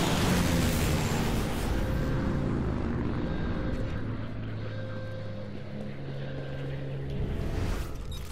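Aircraft engine drone in the game Assassin's Creed Unity, set in Paris during the Second World War, a loud continuous roar that eases slightly midway then swells again, with no talk.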